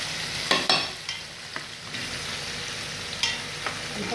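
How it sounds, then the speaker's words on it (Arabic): Zucchini being sautéed over potatoes in a pan gives off a soft, low sizzle, with several sharp scraping clicks from stirring scattered through, and no voices heard. "وهنا هحط الكوسة على البطاطس نشوحها برضك"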